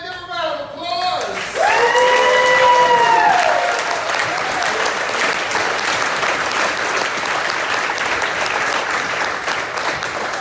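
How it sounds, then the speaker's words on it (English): An audience at a curtain-call tribute breaks into loud, sustained applause right after a voice finishes singing, the clapping steady and room-filling throughout. "Ladies and gentlemen, give a round of applause"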